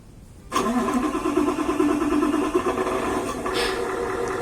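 A radio-controlled Hino dump truck's simulated engine cranks and catches after a short silence, then settles into a steady, close, mid-pitched running drone with a slight rise near the end.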